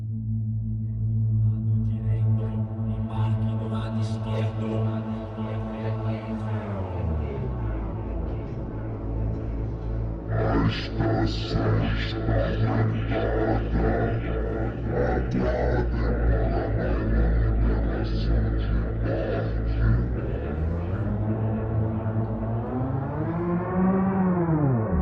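Morphed synthesizer sounds in Soundpaint form a continuous, evolving tone with shifting harmonics, a steady low drone underneath and gliding pitch sweeps toward the end, sustained and loud throughout.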